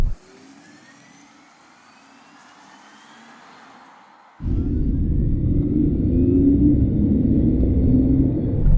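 Mercedes-AMG GT 63 S E Performance plug-in hybrid accelerating, its synthetic electric sporty sound heard from the cabin: a faint low hum with thin rising whine, then a sudden loud swelling drone as the car pulls hard.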